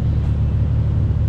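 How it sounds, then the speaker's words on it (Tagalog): A steady, loud low engine rumble from a Honda Civic idles continuously and close by, with no voices. "Ganda ng tunog ng kotse na to, sobra."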